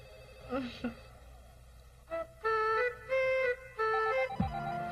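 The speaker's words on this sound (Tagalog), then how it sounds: "cellphone mo, nagre-ring" Cellphone ringing in a Filipino comedy film: a melodic electronic ringtone plays in three or four sustained tonal bursts after brief talk, ending abruptly in a low thud.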